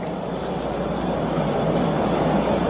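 Steady broadband roar of a subway train, loud and constant throughout with no clear talk over it.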